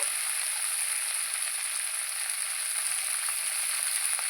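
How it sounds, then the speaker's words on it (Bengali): Amudi fish sizzling steadily in a hot pan with salt, alongside potatoes, onions and spring onion stalks, a continuous close frying hiss with no talking. "ভালো করে আমি ভেজে নেব একটু লবণ দেব"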